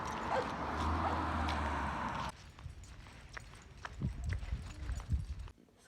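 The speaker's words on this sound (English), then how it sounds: "so that's the dog. She's really excited to go on a walk." An excited pet dog before a walk, panting and whining indoors with a steady hum at first, then lighter yips, snuffles and footstep taps close by.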